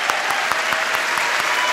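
A studio audience at a Turkish televised music show gives dense, steady applause in a brief, loud burst.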